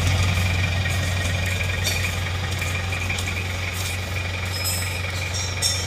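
A car engine, freshly repaired at a workshop, idles steadily nearby with a low, even rumble and faint mechanical ticking, no voices over it.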